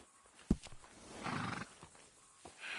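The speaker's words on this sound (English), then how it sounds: "Good-looking horse there." A horse in Red Dead Redemption II neighs and snorts in a brief, sharp outburst, close and fairly quiet, with faint hoof and ambient noise around it.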